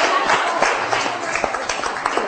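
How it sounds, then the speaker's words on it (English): A small audience claps briefly in a classroom, with a loose patter of hands and voices mixed in. "One more applause."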